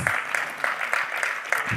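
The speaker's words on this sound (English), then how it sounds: "Let's give it a warmer round of applause, ladies and gentlemen" A conference audience applauding steadily after a panel discussion, with rhythmic clapping sustained throughout at a moderate distance.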